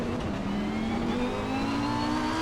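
Lamborghini GT3 race car engine on light throttle at Monza in the rain in Assetto Corsa Competizione, a steady close drone with its pitch rising slowly and evenly, without speech.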